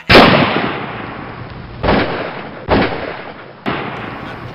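Four sharp gunshot sound effects in a radio drama about the shooting of si Pitung: one loud crack, then three more spaced apart, each fading into a short echoing tail.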